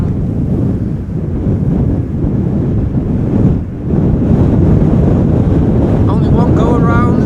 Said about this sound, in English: We have a bit more wind today and also yesterday than normally speaking.